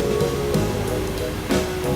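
The powerful Kivach waterfall in Karelia roars as a steady, dense broadband rush. It is loud and continuous, with small swells and no talk.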